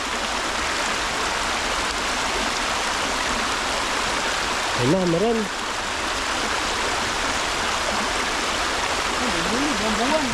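Steady rushing river water flows continuously, broad and full, with a brief spoken voice in Tagalog partway through.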